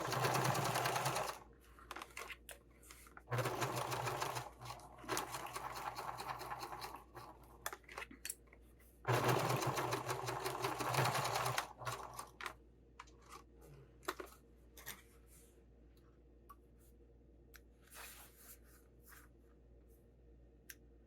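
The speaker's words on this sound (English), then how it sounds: "my sewing machine wants to be pushing it" A sewing machine stitching fabric for a sling bag runs in bursts: three long loud runs of rapid stitching broken by short pauses, then scattered quieter clicks and handling sounds in the second half; no speech.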